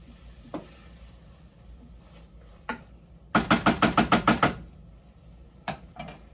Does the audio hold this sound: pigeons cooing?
no